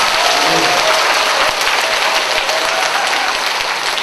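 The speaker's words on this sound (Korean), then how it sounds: "박수 한번 쳐드립니다" Audience applauding a district head at a laughter-themed lecture at the Yeongdo district office in Busan: dense, steady clapping from a full room, loud and close, sustained for several seconds with no pauses.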